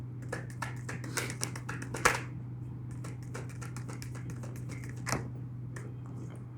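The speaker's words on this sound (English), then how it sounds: "I'm giving it one last shuffle." A deck of tarot cards being shuffled in a final pass, a run of quick papery taps and riffles with a few sharper snaps, close by over a steady low hum.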